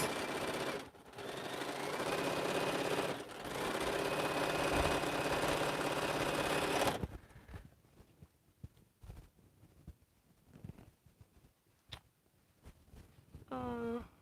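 A sewing machine stitches quilt rows in a dense, steady mechanical whir for about seven seconds. It stops abruptly, leaving quiet room sounds with faint scattered clicks and a brief tonal squeak at the end.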